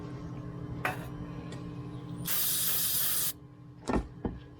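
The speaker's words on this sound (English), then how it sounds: "Clean that up with a little carb cleaner or something." Carb cleaner sprayed onto a starter motor from a 454 engine: one sustained aerosol hiss of about a second, framed by short sharp clicks and taps, close and fairly loud.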